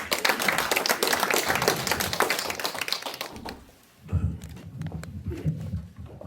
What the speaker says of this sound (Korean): 여러분 박수 보내주시기 바랍니다